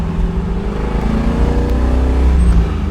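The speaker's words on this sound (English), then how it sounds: "Tremendous exhaust note." A 1969 Chevy Camaro Z/28 V8 exhausts loudly and steadily as it accelerates through bends, a deep rumbling note that climbs slightly in pitch, close and continuous with no talk.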